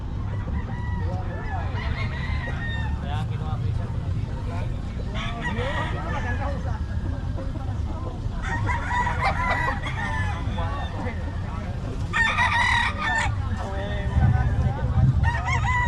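Roosters crow repeatedly at a Filipino market day poultry sale, several long calls rising over a steady crowd murmur with voices talking nearby throughout.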